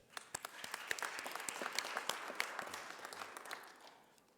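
An audience at a city council press conference bursts into applause, many hands clapping in a dense, crisp patter that swells, holds, then tapers off near the end.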